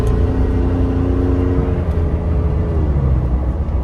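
A Ford 3.5 EcoBoost pickup truck with an upgraded intercooler, spark plugs and tune, driving along with a steady, loud engine and road drone that hums continuously throughout.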